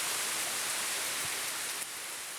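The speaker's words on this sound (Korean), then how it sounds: "비가 내립니다." Steady, even rain falls on Maui, Hawaii, a soft continuous hiss with no voices and no distinct drops standing out.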